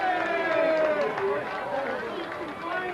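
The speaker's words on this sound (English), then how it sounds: "Crowd giving a little cheer here." Crowd in the stands at a 1986 high school football game between Norristown and CB East, a broad, distant cheer under steady commentator talk.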